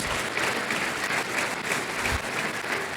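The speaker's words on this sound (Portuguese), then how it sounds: "Dá um aplauso aí para quebrar esse silêncio, por favor." A church congregation applauds in a dense, steady burst of clapping from a crowd, continuous and fairly loud throughout, with no talk over it.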